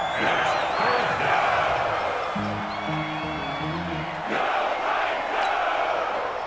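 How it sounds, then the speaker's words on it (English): Stadium crowd in the Madden NFL 20 football video game, a loud sustained roar and cheering rising ahead of a big third down, with a short horn-like tonal blast in the middle and no commentary over it. "the crowd getting into it as we come up on a big third down"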